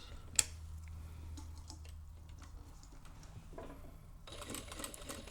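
A sewing machine back-stitches a fabric seam on a beginner phone and tablet stand project, a low steady hum with faint ticking, quiet and close, ending with a brief louder burst of handling noise.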